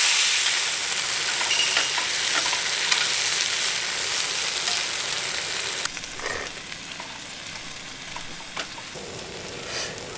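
Raw food stir-frying in a pan at a campsite, a steady bright sizzle running throughout with occasional scrapes of stirring, the frying fairly loud and close with no talk.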